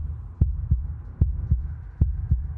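Heartbeat pounding in the horror game Slay the Princess: a low, steady lub-dub thump repeating about three times in under three seconds, heavy and close.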